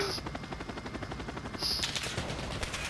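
Video game gunfire in Call of Duty Modern Warfare aimed at the player's helicopter: rapid machine-gun bursts rattle fairly quietly over a continuous mechanical drone, with sharp high clicks cutting in now and then.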